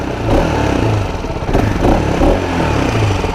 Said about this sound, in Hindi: आप एक कपड़ा ले सकते हो, एग्जॉस्ट पे ऐसे रखो, और अब आप आवाज़ सुनो कि कोई एक्स्ट्रा साउंड इंजन में से तो नहीं आ रही